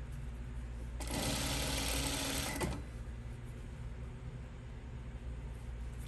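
Computerized sewing machine stitching pajama shorts fabric: a close, loud burst of fast, even motor whirring and needle chatter lasting under two seconds, then stopping, with low background hum before and after.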